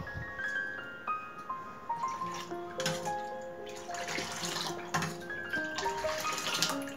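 Buttermilk being churned from two tumblers of water and a cup of thick curd: rhythmic sloshing and splashing bursts of liquid in a vessel, close and fairly quiet, with no voices.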